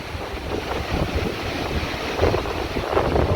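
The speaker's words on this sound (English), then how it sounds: "still got high wind gusts just blowing trees around like toothpicks" Strong Hurricane Sally wind gusts roar continuously into the microphone, buffeting it with loud broadband rushing as trees are blown about outdoors.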